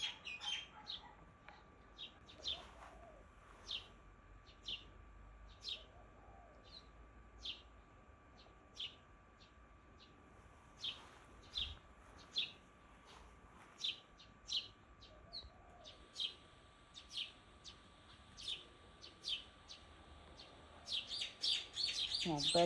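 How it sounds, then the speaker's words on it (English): Small birds chirp in short repeated bursts from nests in the trees overhead, a steady scatter of faint-to-moderate tweets against quiet outdoor background, with a brief louder flurry near the end. "birds were busy here because they have nests in the trees above here"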